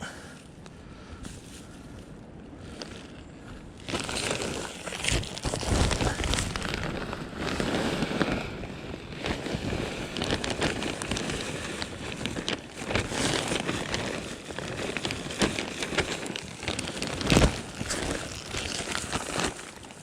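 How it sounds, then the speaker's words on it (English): Strong wind batters the microphone in a garden in continuous, rough gusts, with crackling bursts rising and falling throughout. "Pretty windy today."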